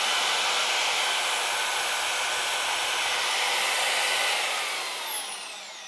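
A Harbor Freight benchtop band saw on a stand runs with a steady, close whirring hiss that slowly winds down near the end.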